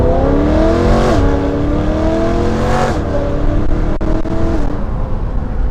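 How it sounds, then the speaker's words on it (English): A BMW M3 with its exhaust valves open revs hard and pulls away, engine pitch climbing through the gears with a shift break, loud and close, ending in crackly downshift pops. "this car is stupid loud with the valves open"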